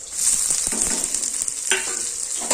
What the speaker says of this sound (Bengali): দিয়ে এটাকে তো ভাজা ভাজা করবো